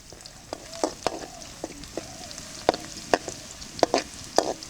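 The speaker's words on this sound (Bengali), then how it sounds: "আমরা এখন পেঁয়াজ দিচ্ছি" Onions dropped into hot oil sizzle for a prawn kofta curry in a village kitchen, a soft steady frying hiss broken by sharp clinks and scrapes of a utensil against the pan.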